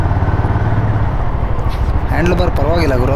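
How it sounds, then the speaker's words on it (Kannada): A Honda CB350 RS motorcycle engine runs with a steady low rumble as a rider gets ready to set off. Someone talks over it near the end. "ಗೈಸ್ ಬನ್ನಿ ಫೈನಲಿ CB RS 350ನಲ್ಲಿ ಒಂದು ರೈಡ್ ಹೋಗಿ ಬರೋಣ."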